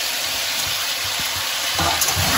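Yellow and green capsicum tossed into a pan of frying mixed vegetables, giving a steady close sizzle and hiss with a sharper burst near the end as the pieces hit the hot oil.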